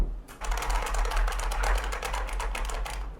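Rapid typing on an IBM Model M buckling spring keyboard, a dense run of loud, crisp clacking keystrokes close up, steady and continuous after a brief pause at the start.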